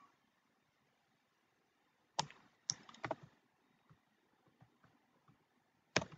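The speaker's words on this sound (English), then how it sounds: "So let me type something" A computer keyboard is typed on in a few short, faint bursts of clicking keystrokes with quiet gaps between them, heard alone in a quiet room.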